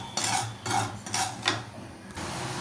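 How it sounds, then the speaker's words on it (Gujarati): Poppy seeds dry roasting in a pan scrape and rattle under a spatula in several rhythmic strokes, close and moderately loud, with a steady low hum beneath. "આપણે પહેલાં ખસખસ શેકી લઈશું"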